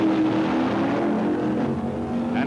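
Dodge drag racing cars roar at full throttle in the Mr. Stock Eliminator final of the 1965 AHRA Winternationals at Bee Line Dragway, Arizona, a loud, sustained engine drone with a steady pitch over the whole stretch.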